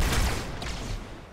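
A sniper rifle shot in Halo 2 Anniversary cracks loudly and close, a single broad blast that decays into a rumbling tail.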